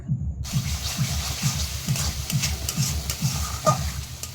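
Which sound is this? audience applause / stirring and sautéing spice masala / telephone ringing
stirring and sautéing spice masala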